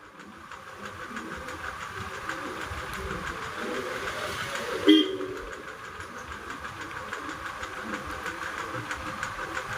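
A train runs along the line near Vizag, heard from on board as a steady, rumbling roar with a constant hiss that continues throughout, with one brief louder knock midway.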